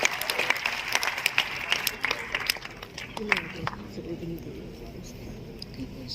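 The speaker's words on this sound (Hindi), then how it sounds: "जोरदार तालियां होनी चाहिए।" At a state teacher's award ceremony, the audience claps loudly for an honoree. The applause is busy at first, then thins out and dies away, and a voice talks over it on a public address system.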